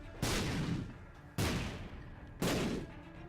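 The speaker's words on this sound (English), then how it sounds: "we are immune to our own explosions" Three bomb explosions go off in The Binding of Isaac Rebirth, each a sudden loud blast with a short rumbling decay, spaced about a second apart, with no one speaking.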